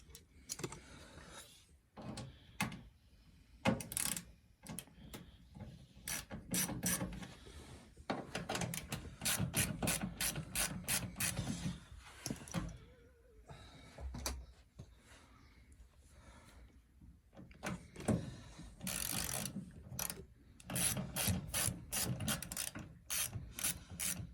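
A socket ratchet with an 8 mm socket works on bolts of a Zanussi TD200 auto reverse tumble dryer, giving bursts of rapid close clicking that stop and start, with a few short pauses and no talk.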